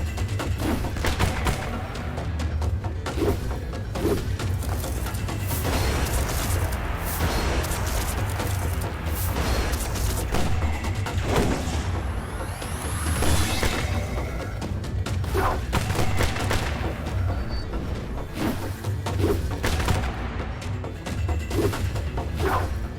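Weapons fire in the video game NieR Re[in]carnation: a dense, continuous barrage of gunshots and booming impacts with rapid bursts and sharp crashes, loud and sustained throughout without a break.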